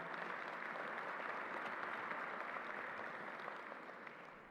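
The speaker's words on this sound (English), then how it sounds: "Let's give them a round of applause for being here today." An audience at a 9/11 20th anniversary ceremony honoring the National Guard claps in a steady, moderately quiet round of applause that fades slightly toward the end.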